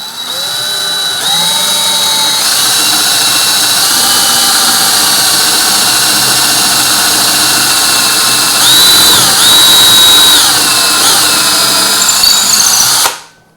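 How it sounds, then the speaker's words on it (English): A power drill boring a pocket hole into wood whines loudly and steadily for over twelve seconds, its pitch rising briefly near the end before it cuts off abruptly. "now I can safely drill into this table"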